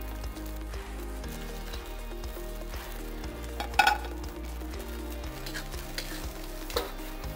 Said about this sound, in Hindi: अब इसमें हम डालने लगे हैं गाजर तो कि की हुई है हमने फाइन चॉप इसको अच्छी तरह मिक्स कर लेना है